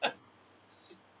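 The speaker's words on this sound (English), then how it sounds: "Here comes my nightly sneeze." A single short, sharp sneeze bursts out at the start, close and fairly loud, then fades into quiet room background with a faint breath afterward.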